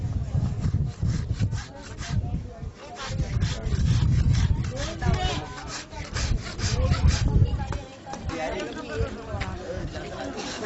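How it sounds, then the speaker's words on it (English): Fake animal nail being cut and polished by hand with various tools, giving continuous rough sawing and rubbing strokes in a steady rhythm, close and fairly loud, with voices talking underneath. "Carefully cutting by using various tools and polishing it, the nail is almost ready"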